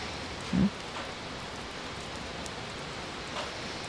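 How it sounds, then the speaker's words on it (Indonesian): Steady, soft rain hiss fills the whole stretch, a constant wash of falling drops with one brief low thump near the start. "iya tiba-tiba hujan."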